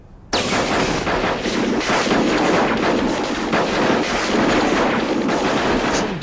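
An explosion set off for a film scene bursts suddenly and then roars on as a loud, sustained blast with crackling debris and wind-buffeted rumble, no voices heard.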